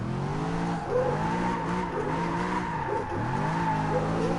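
A stock GT3 car drifts in Gran Turismo Sport. The tire squeal is a wavering, bending tonal screech layered over a steady engine note, rising and dipping as the car slides.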